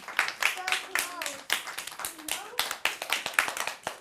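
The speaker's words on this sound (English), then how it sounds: "Give her a clap." A Year 1 class of young children claps for a classmate who gave a right answer, a burst of uneven, scattered claps running under an adult's voice and children's chatter.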